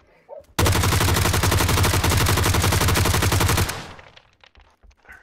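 A sustained burst of rapid automatic gunfire in PUBG, loud and continuous for about three seconds, then fading into quieter scattered sounds.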